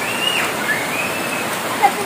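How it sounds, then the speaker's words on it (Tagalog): Heavy, steady rain that has been falling for hours, a continuous broadband hiss with a few brief louder spatters and faint voices in the background. "Maglima ka oras na ni ang ulan guys, wa pa nagundang."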